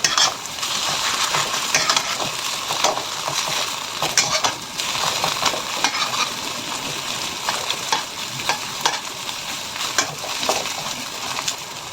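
An egg frying in a pan gives a steady, loud sizzle throughout, with occasional small crackles and scraping stirs of a utensil.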